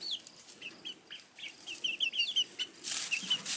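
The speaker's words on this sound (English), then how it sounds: "Look at those beautiful chickens, huh?" Several chickens cluck and peep in quick, scattered bursts, close by, with a brief rustle of movement near the end.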